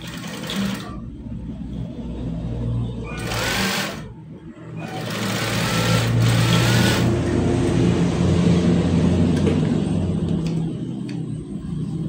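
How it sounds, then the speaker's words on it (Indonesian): An electric sewing machine runs in bursts as it stitches the shoulder seam of a child's kindergarten school shirt, with short stops and restarts before a long steady whirring run close to the mic. "kemudian kita jahit."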